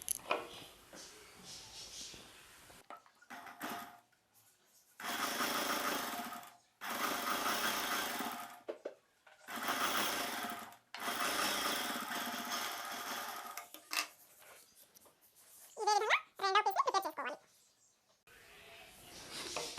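A sewing machine stitching a patch piece onto a silk saree blouse, running in several bursts of a few seconds each with pauses between, followed by short whirring runs near the end.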